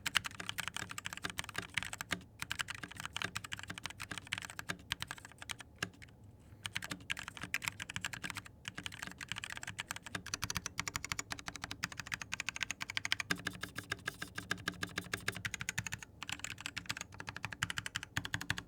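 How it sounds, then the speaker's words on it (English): Steady, muted typing on a mechanical keyboard with silver silent switches, soft, dampened keystrokes in a continuous rapid rhythm, close up and without talking. "Those silver silent switches are so nice to type on."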